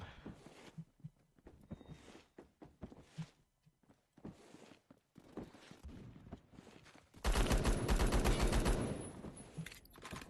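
Gunfire in the video game Phantom Forces: scattered single shots and soft footsteps give way to a loud, sustained automatic burst of rapid, evenly spaced shots close up.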